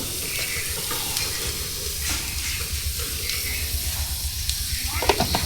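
Turmeric being stirred into hot oil with a little salt, a close, continuous sizzle and hiss with rhythmic scraping and clinking of a spatula against the pan, rising to sharper clicks near the end, no talking.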